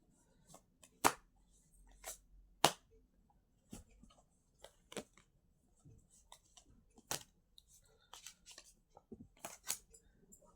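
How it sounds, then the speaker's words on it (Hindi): Playing cards shuffled and dealt by hand, heard as quiet, close, irregular snaps and flicks with soft riffling between them and no talk. "शफल कर रहे हैं कार्ड्स।"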